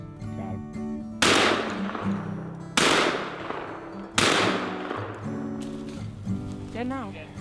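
Three sharp gunshots crack out during a squirrel hunt outdoors, each loud and close with a trailing echo, spaced a second or two apart, with people talking quietly between them.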